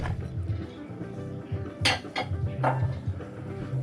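A bowl is handled for instant ramen, giving a few sharp clinks and knocks of dishware, close by, over a low background hum.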